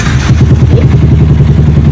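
A freshly refreshed Yamaha Sniper V1 motorcycle engine runs right after push starting, with a loud, steady, close-up rapid putter and mechanical clatter and no talk over it.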